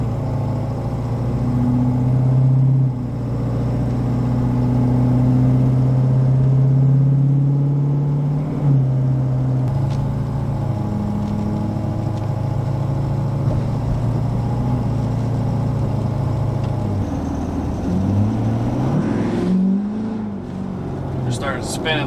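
Ford 6.7 Powerstroke diesel truck pulling at half throttle on damp roads, a steady low engine drone heard from the cab that rises and swells, with brief shifts and surges near the end.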